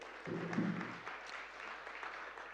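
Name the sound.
audience applause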